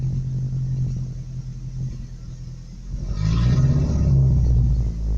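A broken-down truck's engine runs rough and uneven, as though starved of gas, then surges louder and rumbles harder for a couple of seconds before easing off, close by with no talk.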